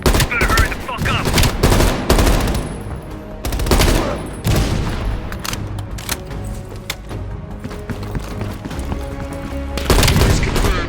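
Heavy machine gun fire rattles from a ridge in Call of Duty: Black Ops Cold War, loud bursts of rapid shots and booming impacts in close repeated volleys, with brief lulls between them.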